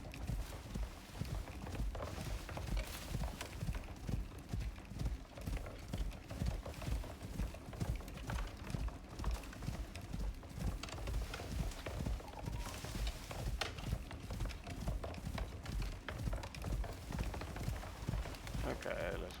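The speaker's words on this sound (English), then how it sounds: "Horse is following." Horse hooves plod in a steady clip-clop walking rhythm throughout, close and continuous, in the Icarus video game, with someone talking over them.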